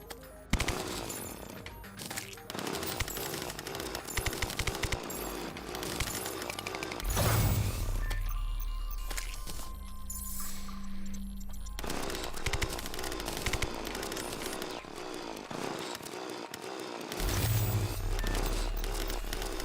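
Mining frigid ore in modded Terraria produces a dense, loud barrage of rapid, harsh percussive hits that keeps going almost without a break, with a few short drops in intensity partway through.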